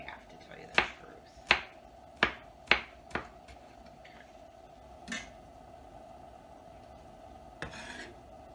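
A knife chops through a hot pepper on a cutting board in a home kitchen, giving about half a dozen crisp, separate cuts in uneven rhythm, then a couple of softer cuts after a pause, over a steady background hum.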